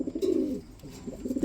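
A large male pike-colour racer pigeon coos close by in a few rolling, throaty phrases with short gaps, loud and alone without talk.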